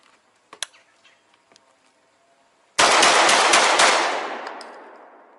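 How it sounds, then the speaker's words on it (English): A J.C. Higgins 12 gauge pump shotgun with Veri-Choke fires outdoors as a loud, dense rapid burst after some quiet mechanical clicks, then a long fading echo. "We'll see if we can fire 5 rounds in about a second."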